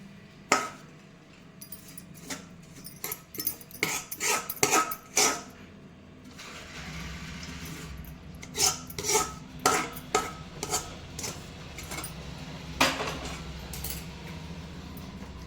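Hot sesame chikki mixture is spread across a ghee-greased metal plate, giving irregular sharp metallic clinks and scrapes in close-up, some in quick clusters, over a soft background with no talk.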